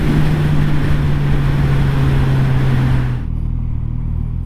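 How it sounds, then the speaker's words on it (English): A Suzuki Katana 1000cc motorcycle engine accelerating, a loud steady roar with a sustained low hum that drops away abruptly near the end, leaving a quieter rumble. "It is an everyday commuter bike with 1000cc as a significant ingredient, which sounds excellent under acceleration."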